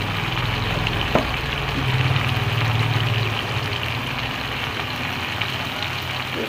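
Diced potatoes with salt and a bay leaf frying in oil make a continuous sizzle and hiss, broken by a single sharp knock and a low hum that rises briefly mid-clip, with no speech.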